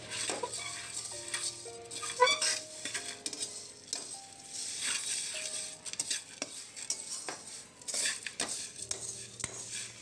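Metal utensil scraping and stirring puffed rice in a hot pan, with light rustling and clinks repeating steadily throughout, close and fairly loud.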